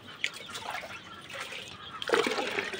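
On a poultry farm, water splashes into a container being filled to six liters, with faint drips and trickles at first, then a louder, fuller pour in the final stretch.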